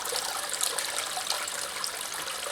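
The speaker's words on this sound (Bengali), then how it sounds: "দেখুন ফিল্টারটা ভর্তি হয়ে যাচ্ছে" Water pouring steadily into a fish-pond filter container, a continuous close rushing and trickling sound with no breaks.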